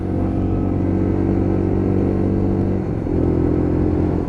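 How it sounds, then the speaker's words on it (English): A Lexmoto LXR 125cc Euro 5 motorcycle exhaust idles with a deep, throaty burble, then briefly drops and picks back up, loud and close with no talking. "just listen to that exhaust, doesn't it sound good? A lot deeper and throatier"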